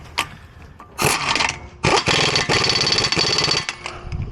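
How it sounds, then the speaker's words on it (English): Tightening a 30mm nut on a Suzuki Aerio alternator with a power tool: a few loud, close mechanical bursts of whirring and rattling, the longest running nearly two seconds, separated by short gaps. "Now we get this 30mm nut tightened up real nice like"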